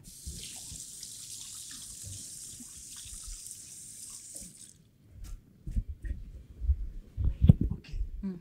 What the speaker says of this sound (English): Let me wash my hands and then.